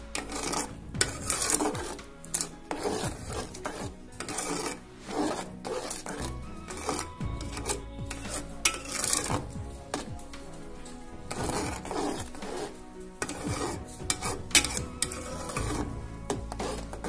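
Rice and sugar stirred with a spoon in a pot for Bengali payesh, giving steady close scraping and rubbing strokes in a repeating rhythm, with a faint sizzle underneath and no talking.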